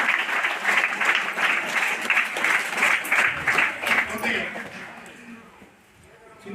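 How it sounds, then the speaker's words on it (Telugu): Audience at a book launch meeting applauds in a sustained burst of clapping that fades out near the end, with a voice speaking faintly beneath it. "మీకు కూడా ఇప్పుడు నేను చెప్పకముందే చప్పట్లు కొడుదురు"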